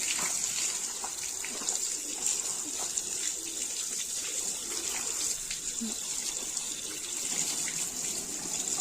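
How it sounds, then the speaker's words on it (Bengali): Freshly picked punka greens rinsed under an open running tap, a continuous close gush of water splashing over the leaves for the whole stretch, with faint birdsong in the background. "আগে এই নল খুলে ভালো করে ধুয়ে নিই"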